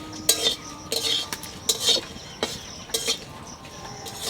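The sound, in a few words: dry red chillies being fried and stirred in a pan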